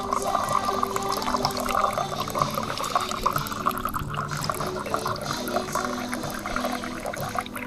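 Water fills a container from a dispenser at a hidden forest spot in the Sierra Madre. The flow is steady and fairly close, with a gurgling, splashing stream that runs on without a break.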